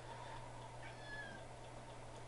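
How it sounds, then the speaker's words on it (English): A pet cat gives a few faint meows, thin rising cries over a quiet low electrical hum indoors, distant and soft with no talking. "that's my cat, and I don't want him getting in the recording"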